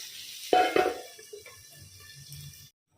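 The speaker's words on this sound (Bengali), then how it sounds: "ঢাকনাটা দিয়ে দিই" A lid is set onto a cooking pan of fish simmering with tomato in a home kitchen, giving a sharp metallic clatter and a second knock, then quiet rattling and a soft bubbling simmer before it goes silent.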